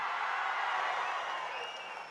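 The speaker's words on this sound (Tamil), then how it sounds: "அற்புதமாக பேசிய அண்ணனுக்கு ஒரு அரங்கம் நிறைந்த கைத்தட்டல தந்தையாகும்" Dense applause from a full hall audience at a Tamil political gathering, a steady wash of many hands clapping that stays loud throughout and eases slightly toward the end.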